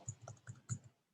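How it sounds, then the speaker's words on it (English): Computer keyboard typing, a handful of soft, quick key clicks in an uneven rhythm, close but faint, ending in quiet. "there seems to be an awful lot of typing"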